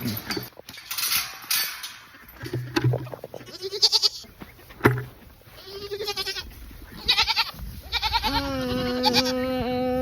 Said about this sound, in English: I think the goats are hungry